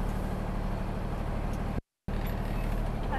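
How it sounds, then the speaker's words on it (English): A truck pulling forward and stopping on its service brake: a steady, dense engine and road rumble, close and even in level, with a brief total break partway through and no speech. "I'm going to pull forward, making sure that when I step on the brake, my service brake holds"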